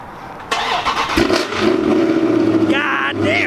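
A car engine, the replacement for a supercharged V6 Dodge Challenger, cranks and fires, then rumbles loudly at close range with a revving rise near the end, and voices are heard over it.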